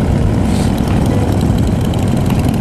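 Harley-Davidson Sportster motorcycle engines rumble at a Silverstone gathering of hundreds of Harleys, a dense, loud, continuous low throb with no single bike standing out.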